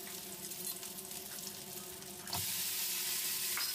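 Broccoli stir-frying in a pan, a soft crackling sizzle that jumps to a louder, brighter hiss midway as the vegetables hit the heat or get tossed.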